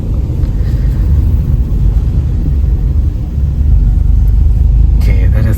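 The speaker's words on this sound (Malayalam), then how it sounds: "ഇതാവും പറഞ്ഞ ചെറിയ ചെറിയ വണ്ടികളൊക്കെ പോകുന്നു." Small vehicles pass along a narrow road through Pakkana, a hilly village in Tamil Nadu. A loud, continuous engine rumble and road roar swells slightly toward the end, sounding close by.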